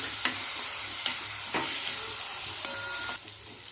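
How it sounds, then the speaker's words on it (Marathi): Stuffed ridge gourd is stirred in a hot pan, a steady close sizzle broken by several sharp spoon scrapes against the metal. "आता भरली दोडकी टाकून घ्यायची मिक्स करून घेऊया"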